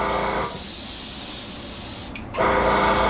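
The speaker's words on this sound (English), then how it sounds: "your nozzle's wide open, so you're just misting it on" An airbrush sprays green paint onto an M551 Sheridan tank model with its nozzle wide open, giving a loud, steady hiss that breaks off briefly near the end before picking up again.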